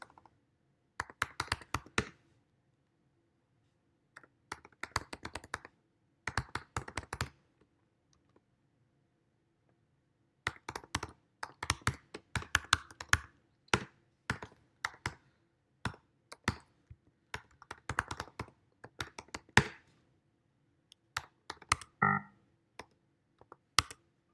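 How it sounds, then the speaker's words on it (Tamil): Bursts of key clicks from a computer keyboard as a command is typed, coming in short irregular runs separated by pauses, fairly close and alone with no talking. "ஃபஸ்ட்டு நான் கமாண்டை வந்து டைப் பண்ணிடுறேன்"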